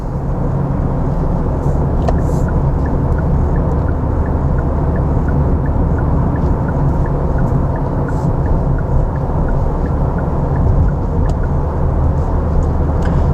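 A 2017 Kia Sportage Mk4 with a 1.7 diesel engine and manual gearbox accelerates onto a motorway, heard from inside as a steady, loud low rumble of engine and road noise with no talking.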